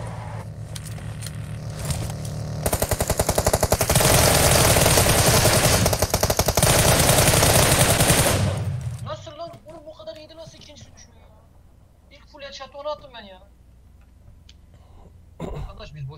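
Gunfire in PUBG Mobile, a dense burst of rapid automatic shots at a vehicle lasting several seconds, loud and close, followed by voices talking over quieter game sounds and a final shot.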